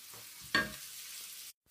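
Vegetables sauté in butter with a soft sizzle, broken by a sharp clatter early on before the sound cuts out abruptly near the end.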